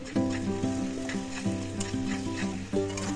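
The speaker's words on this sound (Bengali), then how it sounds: "নুন দিয়ে ভালো করে নাড়াচাড়া নিয়ে নেব" Chopped tomatoes with salt are stirred in hot oil, giving a frying sizzle with stirring scrapes beneath a strong, steady tonal ringing, with no talk.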